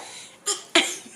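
A person sneezes twice in quick succession, two short sharp bursts close to the listener, the second louder and followed by a brief fading breath, with no talk around them.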